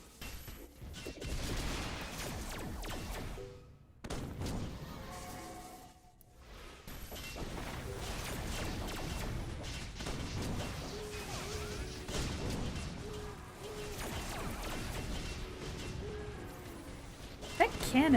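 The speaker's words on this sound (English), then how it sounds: "That cannon sound is really quite something" Cannon blasts and crashing impacts from the online game Aura Kingdom, played as a lancer, boom repeatedly amid dense combat effects and music, with someone talking over them throughout.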